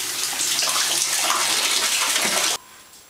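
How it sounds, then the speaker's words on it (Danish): Warm water runs steadily from a tap as paste is washed off, producing a continuous, close splashing rush that stops abruptly near the end, leaving a faint residual hiss. "Varmt vand er det nemmest at vaske af med."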